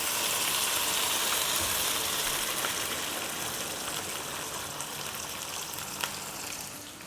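Water pours into rice in a cooking pot, a steady hissing gush that runs close and unbroken for several seconds, gradually softening toward the end.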